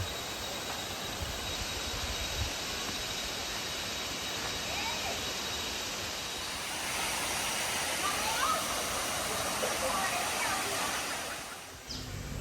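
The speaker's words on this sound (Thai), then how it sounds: "ขอบอกได้เลยว่าน้ำตกสุนันทา สวยมากจริงๆนะครับ" Sunantha waterfall at Khiri Wong in Nakhon Si Thammarat, Thailand, pours with a steady broadband rush of falling water that grows slightly fuller midway, heard close by and constant throughout.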